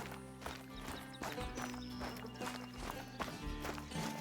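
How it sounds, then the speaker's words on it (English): A rabbit moves nearby in theHunter: Call of the Wild, a series of soft irregular footfalls over a low constant background hum, with no voices. "I hear some footsteps or something around me."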